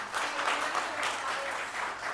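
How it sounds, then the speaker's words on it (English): An audience claps at a city council meeting, a dense, even patter of many hands that holds steady for about two seconds at moderate loudness. "So I'm going to ask that you please reserve your clapping, abstain from doing that."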